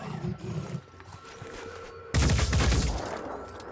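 Gunfire from a squad firing at a worm creature in the strategy game Phoenix Point, with a quieter stretch before a loud, dense burst of overlapping shots erupts about halfway through and continues close up.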